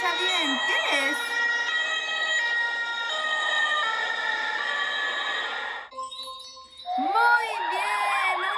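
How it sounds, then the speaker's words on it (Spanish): An ambulance siren blares with a loud, steady multi-tone wail for about six seconds, breaks off briefly, then returns as a rising, sweeping wail. "Muy bien, una ambulancia."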